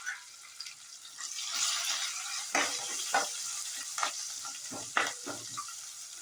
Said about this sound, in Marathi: मग हे ठेचलेला लसूण आणि मिरच्या तेलात चांगल्या फ्राय करून घ्यायच्या आहे.